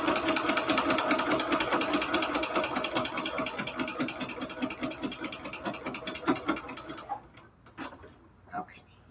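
Sewing machine back stitching Cathedral Window quilt curtain blocks: a fast, even rattle of needle strokes that slows and stops, followed by a few isolated clunks and a voice nearby.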